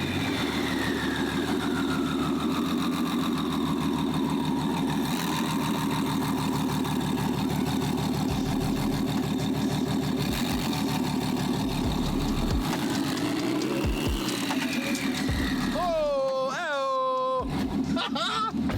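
A twin-turbo Ferrari F12 engine idles with a deep, steady rumble, then revs briefly near the end, loud and close.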